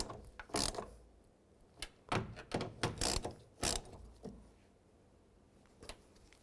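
A hand ratchet snugs down the side mirror mounting nuts on a 2003-07 Nissan Murano, with bursts of sharp, close clicking in short runs and quiet pauses between them.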